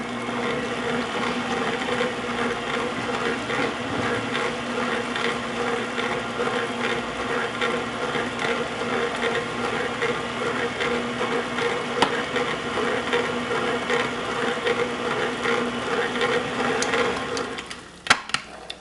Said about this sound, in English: I'm going to go ahead and put the attachment back on and let it mix a little bit more